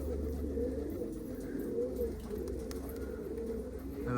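Domestic pigeons coo in repeated low, throaty rolls at a loft as young birds land, the calls overlapping steadily and close by with no talking.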